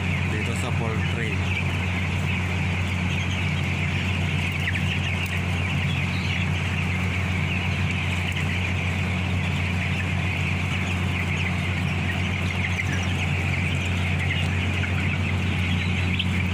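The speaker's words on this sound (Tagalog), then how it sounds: "Ang mga manok dito sa poultry." Chickens cluck steadily inside a poultry house, with a constant low hum of fans or machinery running underneath.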